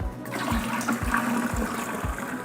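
High-pH alkaline ionized water poured into a vase, a continuous splashing, gurgling pour close by with no talk.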